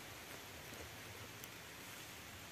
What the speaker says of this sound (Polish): Czekajcie, zobaczcie jak pada.